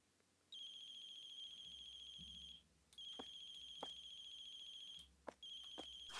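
A cell phone ringtone rings in bursts within an indie horror game set during a coffee shop closing shift, a bright electronic melody repeating three times with short gaps and faint clicks and low room hum beneath.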